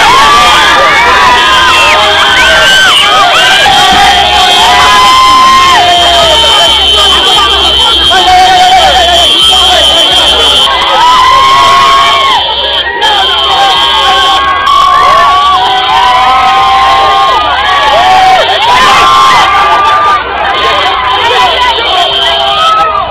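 A large concert crowd of about 15,000 in Nicaragua cheers for a performer, a dense, loud, continuous roar of voices and shouts with music tones running throughout.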